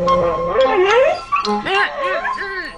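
A cartoon dog yips and whimpers in rising, wavering cries, loud and close, with a voice speaking over parts of it.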